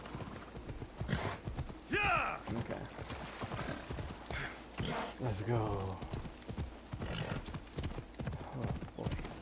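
Horse in the video game Assassin's Creed Odyssey clip-clopping with rhythmic hooves and a whinny, while a player talks over it throughout.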